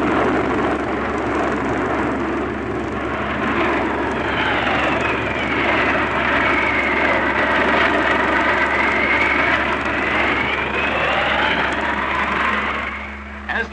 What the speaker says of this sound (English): As the planes wheel and turn, they leave a trail of smoke so that every maneuver can be seen clearly from the ground.